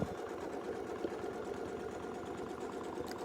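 A sewing machine runs steadily, quilting wreath designs with circle templates, its rapid, even stitching hum continuing close and alone for several seconds.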